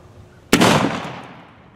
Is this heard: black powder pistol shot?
yes